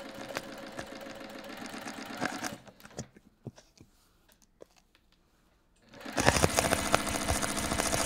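A sewing machine runs a quarter-inch seam on a fabric bag, with a steady dense whir for the first couple of seconds, a quiet gap with a few small clicks, then the motor loudly resumes.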